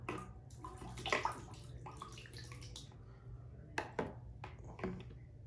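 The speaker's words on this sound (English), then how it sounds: "we're gonna go on and rinse off the tip of the pen" Tap water splashes briefly over the tip of a Bluelab pH pen, faint intermittent rinsing and trickling with a few small clinks in a quiet indoor space.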